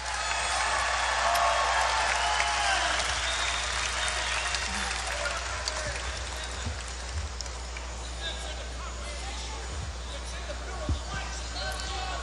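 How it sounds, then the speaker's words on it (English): A large outdoor crowd at a political rally in Melbourne, Florida applauds and cheers continuously, a loud dense wash of clapping that slowly eases off over several seconds. "Please give a round of applause for my good friend, Representative, now going to be Senator, De"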